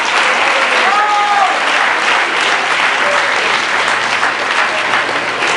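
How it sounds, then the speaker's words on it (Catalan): Sustained audience applause at a school festival, dense and steady clapping from a full crowd throughout, with a few faint voices mixed in. "Un aplaudiment per a ells, per favor."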